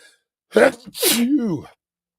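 A single sharp human sneeze, a quick breathy intake followed by a loud explosive burst and a trailing vocal tail, close to the microphone in an otherwise quiet room.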